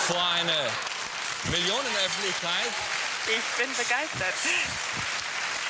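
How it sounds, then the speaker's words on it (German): A German late-night talk show studio audience applauds in a steady, rain-like patter throughout, with someone speaking over the clapping. "Sie hören es ja, die Zuschauer applaudieren"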